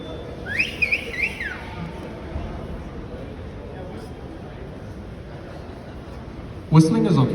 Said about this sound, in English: You can whistle, you can clap.